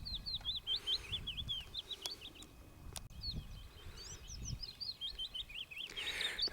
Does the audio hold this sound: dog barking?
no